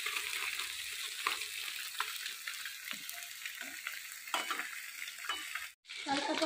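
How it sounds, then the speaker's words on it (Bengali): Shrimp for a malai curry sizzle and spit in a hot pan, a steady close crackle with occasional sharper pops, a brief drop near the end, and no talking. "এদিকে তো চিংড়ি মাছে তো দেখো ফোটা শুরু করে দিয়েছে।"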